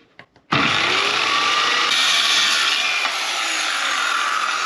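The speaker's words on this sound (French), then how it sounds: "il me reste plus que les panneaux latéraux à découper aux bonnes dimensions" A power saw cuts wooden side panels to size, starting abruptly after a few quiet knocks and then holding a loud, steady, close whine and rasp for several seconds.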